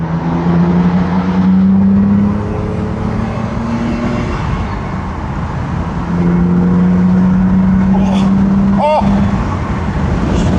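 A V12 BMW E31 850i accelerates hard, its engine note climbing steadily in pitch through two loud, sustained pulls separated by a brief lift, heard from inside the car with occasional faint sounds over the drone.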